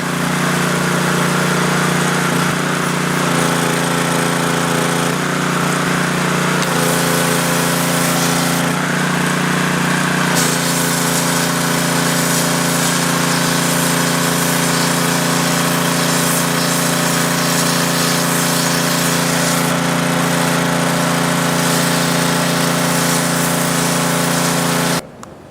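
A Ryobi 2700 pressure washer's gasoline engine runs steadily and loudly under load while its pressure valve is screwed down, a continuous close drone with a shift in pitch partway through and no talk.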